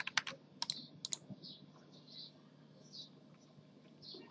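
Hello world typed on a computer keyboard while coding a JavaScript clock, with a few quick clusters of clicks early on and one more at the end, close and fairly quiet over low room hum.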